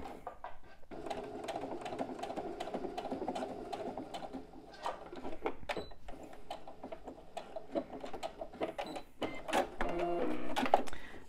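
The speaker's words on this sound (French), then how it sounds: "Et je vais faire également une couture à 1 ou 2 mm des bords." Sewing machine stitching close to the edges of a zip pouch with piping, a rapid rhythmic mechanical clatter running steadily, briefly pausing near the middle, then resuming with some handling clicks, no speech.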